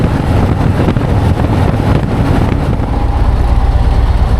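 Loud, continuous wind roar buffets the rider on a moving motorcycle fitted with a new Klock Works windshield, a dense steady rush with engine rumble beneath and no talk.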